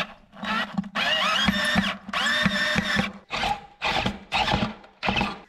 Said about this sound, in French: Et maintenant, on visse tout ça.